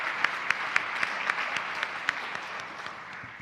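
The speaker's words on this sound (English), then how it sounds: "Why don't we give a round of applause for all our wonderful editors up here" An audience at a symposium applauding journal editors on stage, a moderate steady patter of clapping with a few sharper claps standing out, heard from within the room.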